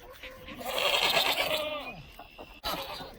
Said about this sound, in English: Now we're going to go in the goat pen and introduce our goats.